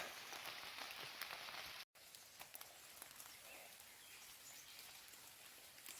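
Rain falls steadily through a mountain forest, a soft continuous patter of drops on leaves and ground with a brief break partway through, fairly faint and with no voices.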